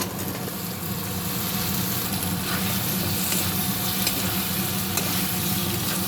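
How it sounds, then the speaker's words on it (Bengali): Cut potatoes and mati alu fry in a pan with a steady, dense sizzle that stays close and constant, while a utensil stirs them in occasional soft scrapes. "এটাকে আমি ভালো করে একটু ভেজে নেবো"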